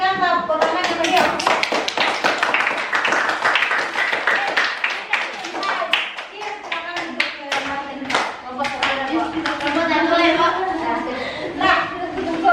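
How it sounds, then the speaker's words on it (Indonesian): A classroom of children gives a lively round of applause after a group presentation, dense rapid clapping close and loud, with some chatter and a teacher's voice mixed in. "berikan tepuk tangan yang meriah"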